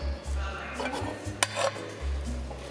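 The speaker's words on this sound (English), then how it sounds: "I'm gonna put the pasta in." Pasta going into a cooking pot in a university student's kitchen, with clattering of the pot and utensils, a sharp clink in the middle, and a low steady hum underneath.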